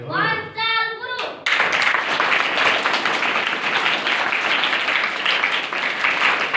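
A group of school pupils claps a rhythmic clap pattern (van taal) in unison: a brief voice first, then a dense, loud, continuous burst of hand claps sustained to the end.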